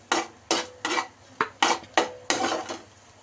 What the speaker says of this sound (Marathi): सो हे नीट मिक्स करून घेऊया